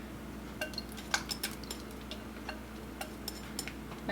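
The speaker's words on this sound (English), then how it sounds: "Now all we're going to do is add the wet to the dry and give these a mix." Wet and dry raspberry cupcake ingredients being mixed in a bowl, with a utensil clinking and tapping against the sides in quiet, irregular ticks over a low steady background hum.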